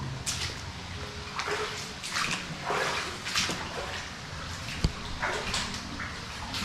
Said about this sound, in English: Sounds like a river down there.